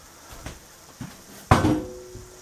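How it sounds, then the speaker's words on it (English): A pan is set down in a home kitchen during collard greens with ham hocks cooking: one solid clattering knock stands out, with a few lighter taps and clunks before and after it, fairly close by with no talking. "Let me set this pan down somewhere."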